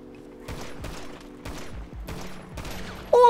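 Rapid gunfire in GTA Online rattles out in four or five sharp volleys of repeated shots, loud and close, with a louder burst right at the end.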